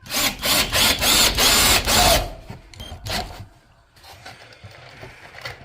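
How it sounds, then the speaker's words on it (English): Altocraft cordless drill drives screws into a floor in short, loud bursts of whirring motor, pulsing as each screw seats, then stops, leaving quieter handling clatter and faint background noise. "So we're going to finish up screwing this floor in"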